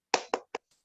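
Three quick, sharp hand claps ring out in a tight accelerating rhythm, followed by a faint fourth tap, as participants perform the spirited tepuk semangat clap together.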